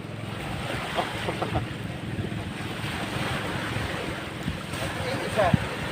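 Small sea waves washing around a boat at sea during a fishing trip, a steady close wash mixed with wind buffeting the microphone and a few soft knocks, with no clear talk.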